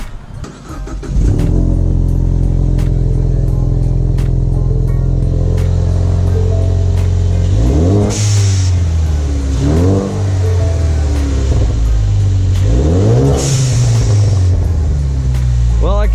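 A Ford EcoBoost Mustang with an Airaid cold air intake starts up and idles, then revs hard twice in crackling rising-and-falling surges, loud and close, with a hint of talking underneath.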